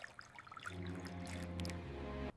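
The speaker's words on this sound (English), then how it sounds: "I pour fresh water into a clean glass from the water pitcher." Fresh water pours from a pitcher into a clean glass. It is a quiet, close trickle whose tone rises as the glass fills, then it stops sharply after about two seconds.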